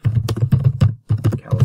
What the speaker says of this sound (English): And then we're going to type Dear Caleb, comma, enter.